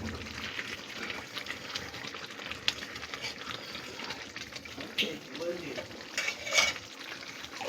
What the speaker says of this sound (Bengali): এবার সব ভালো করে মিশিয়ে দেব।